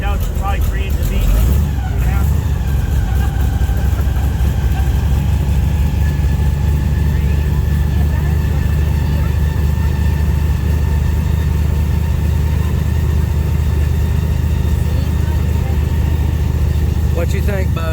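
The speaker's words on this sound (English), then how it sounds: "It's loud. Boat's loud." Airboat engine on an Everglades tour through shallow water, roaring loud and steady from start to finish, with faint voices buried beneath the drone.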